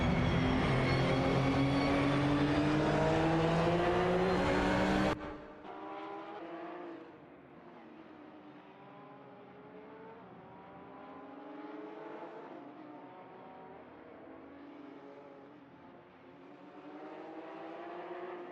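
Race cars in a racing video game scream loudly at high revs, their engine tones climbing, then drop to a quieter layered whine of several cars holding steady through curves, no talking.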